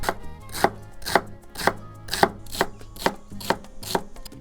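Fresh celery chopped on a board for a chicken and sweet corn salad, the knife striking in a steady rhythm of about nine crisp, close chops with no talking.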